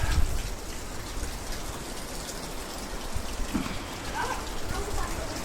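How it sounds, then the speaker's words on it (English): Steady rain falls in Penmarch, France, a continuous broadband hiss of drops on surfaces, fairly close and even throughout with no pauses. "It's raining yet again."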